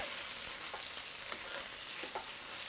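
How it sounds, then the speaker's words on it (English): Beef frying in Thai panang curry paste in a hot pan, a steady close sizzle with brief scraping stir strokes as the pieces are separated, no talking. "I'm trying to separate all the beef, frying the beef"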